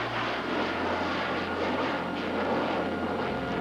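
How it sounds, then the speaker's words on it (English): British Airways airplane passing overhead, a broad steady engine roar that fills the scene evenly and stays loud throughout with no voices. "What a beautiful airplane."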